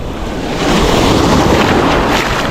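Rough sea waves roar and wash steadily during a fishing trip, with a close, loud, continuous rush that swells slightly after the first half second, and no voices.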